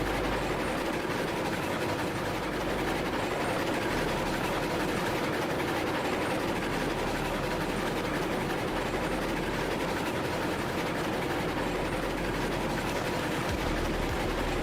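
Steam train rolling along in the Railroads Online video game, a continuous rumbling run with steady rail noise, even and fairly loud throughout with no break.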